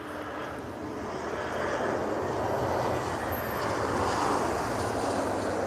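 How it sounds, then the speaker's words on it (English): An Embraer E195 airliner's jet engines at Lisbon airport give a steady, distant roar that slowly swells and holds for several seconds, with no talking. "this one is an Embraer. Let's see if I can tell if it's an E190 or 195."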